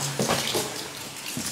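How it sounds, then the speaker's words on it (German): Seepage water drips steadily from the ceiling of a secret Nazi-era tunnel, with soft irregular splashes and a wet trickling texture echoing close by in the enclosed space. "Hier tropft sich verrückt."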